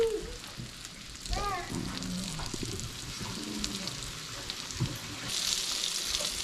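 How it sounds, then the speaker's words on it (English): Brook trout frying in hot oil in a pan gives a soft, steady sizzle and crackle, fairly faint, with a few clinks and stirring noises. "You want to have that nice sizzle going on, so we get a good crust on the outside of the fish there."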